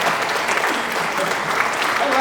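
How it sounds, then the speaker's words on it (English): An audience at a downtown town hall meeting applauds steadily and densely for a couple of seconds, with voices faintly audible beneath the clapping. "That deserves a round of applause too."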